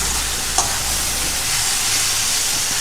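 Food fries in a hot pan, a loud, steady, close sizzle and hiss that holds throughout with a faint low rumble beneath and no voices.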